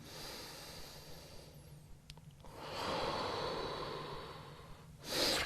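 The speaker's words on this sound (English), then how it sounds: "Getting some deep breaths in, slowing down your breathing." Slow, deep breaths during a yoga lunge stretch: a drawn-out airy exhale swelling in the middle, close to the microphone, with a sharper intake of breath at the end and no speech.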